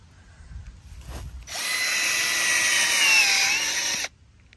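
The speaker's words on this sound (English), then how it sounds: "Wow, not bad for a Temu auger." A cheap Temu power auger spins up and drills into garden soil, a loud, steady whirring whine lasting about two and a half seconds before cutting off abruptly, with quieter outdoor background before and after.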